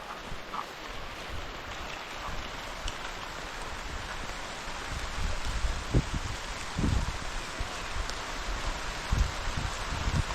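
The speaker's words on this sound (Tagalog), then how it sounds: "Unang ulan." The first rain of the season falls outdoors as a steady, dense wash of drops with occasional louder splashes and patters, continuous and moderately close.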